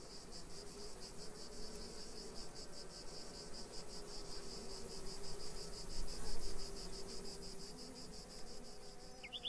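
Insects buzz steadily around hydrangea flowers in the open air, a faint, continuous high drone with a rhythmic pulsing edge that holds without a break.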